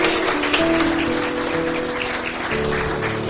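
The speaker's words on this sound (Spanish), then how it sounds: "Dale un fuerte, fuerte, fuerte aplauso." A church congregation applauds loudly and steadily, many hands clapping together with sustained musical tones underneath, continuous for a few seconds.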